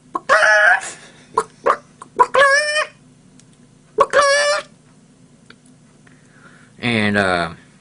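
A man imitates a chicken with his voice: a run of short, sharp clucks and squawks with pauses between them, then a longer, loud crowing call at the end, all close up.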